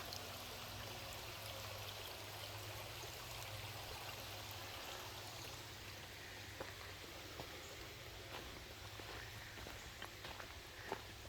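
A creek flows over rocks along an easy trail at Patten Park on Signal Mountain around a July noon, a steady soft rushing wash with scattered light footsteps and ticks, no talking.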